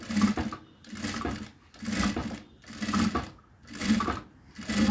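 A sewing machine stitches a doormat from fabric strips in five loud, regular bursts of whirring, each separated by a brief pause, close up with no voices.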